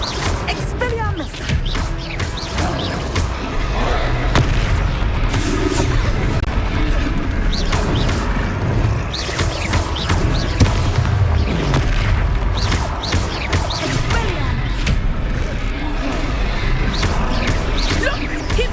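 A spell is cast during hard-mode combat in Hogwarts Legacy: loud, dense bursts of magical booms and crashing impacts pile up continuously over a busy, rumbling game soundscape for the whole stretch.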